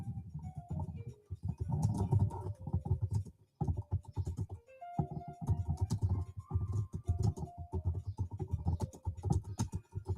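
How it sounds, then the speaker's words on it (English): Typing on a computer keyboard, a steady stream of dense, clattering keystrokes with short pauses, close and fairly loud, heard alone without talk. "I'll go ahead and type it to him right now"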